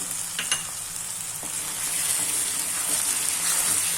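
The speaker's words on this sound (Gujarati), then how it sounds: "હવે તેમાં આપણે ટમેટાની પ્યુરી નાખી દેશું" Tomato puree poured over sautéed onions in a pan for a dry moong dal dish fries with a loud, continuous sizzle, with scattered scrapes and taps of stirring and no voices.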